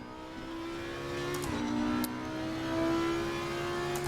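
An Audi R8 GT3 Evo race car accelerates at Kyalami in Assetto Corsa Competizione. Its engine note climbs steadily, briefly dips at a gear change, then keeps rising, loud and continuous from the cockpit, with no talking.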